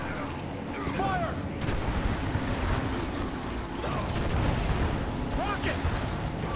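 Rocket volleys in Command & Conquer: Kane's Wrath, a dense run of overlapping launches and impacts under constant battle noise, with mechanical creaks and a voice shouting commands over the fire.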